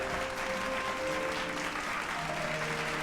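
Steady applause from a crowd in a video game cutscene, dense continuous clapping at moderate level with faint tonal music lines running underneath for the full stretch.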